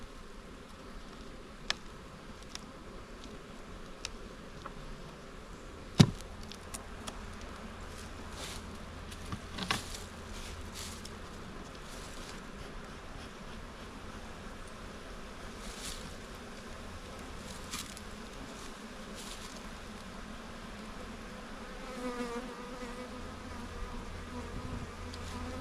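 Honeybees hum in a steady, dense drone during a February hive inspection in South Carolina, with a few soft knocks and thumps of handled equipment and no talking.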